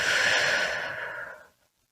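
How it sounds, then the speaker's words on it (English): A single deep, slow breath, heard close and soft. The airy exhale trails off and fades to silence by the end. "I want you to start by taking a deep breath in and a deep breath out."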